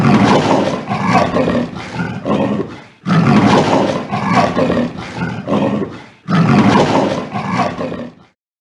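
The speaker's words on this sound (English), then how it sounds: "Whoa, it's the leopard." A leopard gives three loud, rasping roaring bouts in a row, each a rough sawing series of grunts followed by a brief pause, close and dominating with no other sounds.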